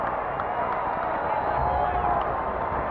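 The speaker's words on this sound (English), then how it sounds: "the Red Sox fans finally have a little something to cheer about" Red Sox fans at a Boston ballpark cheer and clap after a home run against the Atlanta Braves in 1997, a steady distant roar of the crowd beneath a broadcaster talking.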